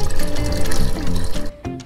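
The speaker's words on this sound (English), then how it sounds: "There's the brine coming out of the new through hull." Brine from a newly installed AC-powered Cruise RO watermaker pours steadily out of a boat's new through-hull, a close, loud splashing gush that thins and trickles briefly near the end.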